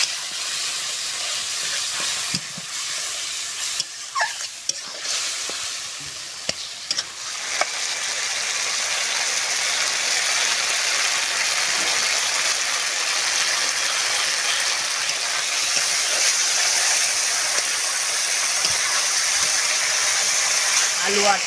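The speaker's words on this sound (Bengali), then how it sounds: "সুন্দরভাবে মশলাটা কষিয়ে নেব।" Spice paste with turmeric, salt and a little water sizzles steadily in a pan while being sautéed and stirred, a loud continuous hiss that builds and holds for the whole stretch, with occasional scraping and some talking.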